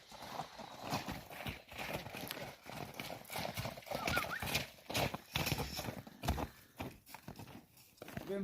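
Two horses, aged seven and eight, clip-clop their hooves outdoors in a busy, noisy scene, with irregular hoof knocks mixed into rustling and voices in the background.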